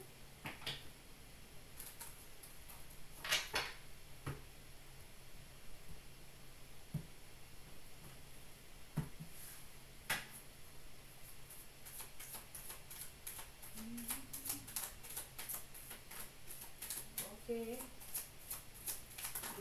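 Faint tarot card shuffling comes in scattered soft riffles and taps against a low steady hiss, close but quiet, with no talking.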